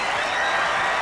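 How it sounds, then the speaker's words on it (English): An arena audience applauds the Raiderettes cheerleaders, a thick, continuous wash of clapping that fills the space loudly and evenly from start to end. "Give them a round of applause"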